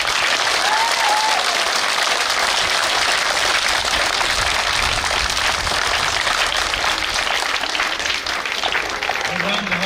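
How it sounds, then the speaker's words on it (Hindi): Loud, sustained applause from a large audience at a school Dussehra celebration after a Ramayan play by teachers, dense steady clapping that fills the whole stretch without a break. "चलिए सारे टीचर्स के लिए बहुत जोर से तालियां बजाएं।"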